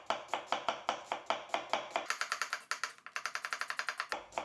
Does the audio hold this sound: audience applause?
no